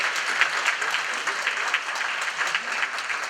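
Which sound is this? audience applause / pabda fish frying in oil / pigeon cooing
audience applause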